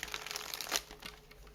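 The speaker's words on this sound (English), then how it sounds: "let me shuffle this one more time." A quick crinkly riffle of tarot cards being shuffled close to the microphone, a soft papery rustle lasting about a second.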